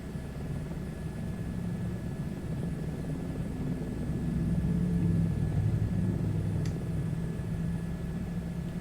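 A helicopter in the Flight Simulator 2024 game drones steadily with a low rotor and engine hum that swells slightly midway, no voices present.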